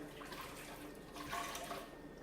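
Water poured in a kitchen to rinse milky wrewre melon-seed pulp for a Ghanaian chop-bar style soup, a continuous close splashing rush that swells slightly midway, with no talking.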